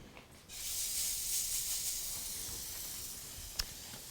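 Buttered slices of angel food cake searing on a grill, a steady broad sizzle that starts abruptly and holds at moderate volume, with one sharp pop near the end.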